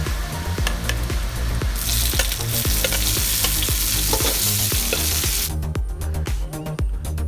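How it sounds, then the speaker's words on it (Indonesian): Garlic and onion stir-fried in a pan, a loud continuous sizzle with rhythmic scraping strokes of a spatula, the frying hiss swelling midway and then dropping back while the stirring continues. "Baik, kita aduk-aduk sebentar."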